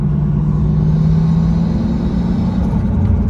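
A BMW E36 fitted with a 13B rotary engine drives along, its loud, steady engine drone and low rumble filling the cabin continuously from up close.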